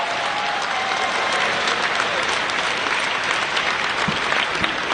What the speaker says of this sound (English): Please join me in giving the Sheraton staff a round of applause.